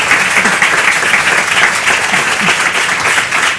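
A crowd applauds steadily throughout, a dense, even patter of clapping from many hands without a break.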